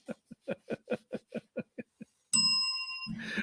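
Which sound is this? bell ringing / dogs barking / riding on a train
bell ringing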